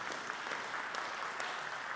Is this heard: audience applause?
yes